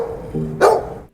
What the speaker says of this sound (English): a dog barks